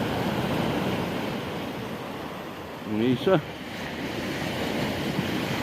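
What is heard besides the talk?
sea waves on the shore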